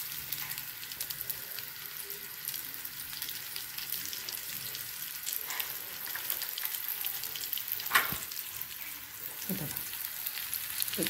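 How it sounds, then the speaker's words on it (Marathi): Paneer and bottle gourd rolls fry in a pan over medium heat, a soft continuous sizzle with occasional crackles and a brief louder spatter. "तर हे मस्त फ्राईंगला ठेवते मी"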